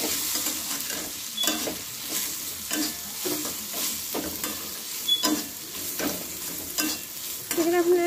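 Food sizzles in a frying pan after turmeric and salt go in, with repeated scraping stirs of a spatula over a steady crackle, close and fairly loud, no talking.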